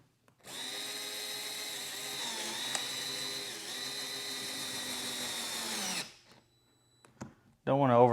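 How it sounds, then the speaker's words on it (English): A cordless drill whines steadily for several seconds as it drives a screw while installing an in-wall speaker, then stops; a brief burst of talk follows at the end. "Grab my drill."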